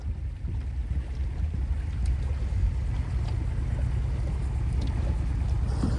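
A low, steady engine rumble of a skiff running on a Mercury Pro XS 115 outboard motor, with wind buffeting the microphone throughout and no talking.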